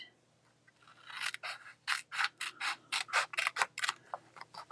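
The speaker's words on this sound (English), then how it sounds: "So you are going to cut up to your fold there." Scissors snip through a folded card in about a dozen quick, crisp cuts in a steady rhythm, close up and alone after a brief quiet start.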